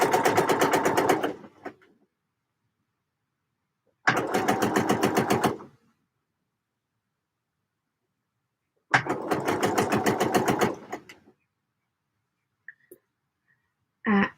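A home sewing machine running in three separate bursts of steady, rapid stitching, each lasting one to two seconds with silent gaps between, plus a few faint clicks near the end; no talking.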